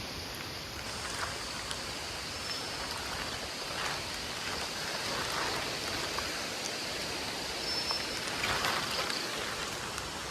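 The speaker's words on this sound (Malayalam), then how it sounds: "അവിടെ നിന്നാണെന്ന് തോന്നുന്നു വെള്ളച്ചാട്ടം." Water from a forest waterfall near a cave at Mankayam pours in a constant broadband rush, heard from a distance, steady and fairly soft, with no talking.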